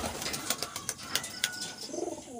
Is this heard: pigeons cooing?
yes